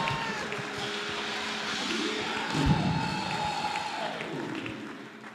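A church congregation claps and cheers during a testimony, a fairly faint crowd roar with scattered claps that swells briefly midway and then fades.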